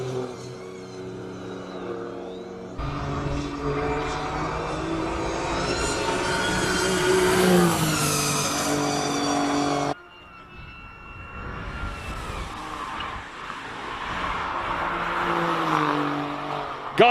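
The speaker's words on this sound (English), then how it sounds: "A few more Porsches making their way up the hill." Porsche race cars, including a 911 Carrera, climb a hill-climb course at a classic speed event in Cape Town, their engines loud and close, revving and rising in pitch as they pass, with a sharp cut to another car accelerating uphill.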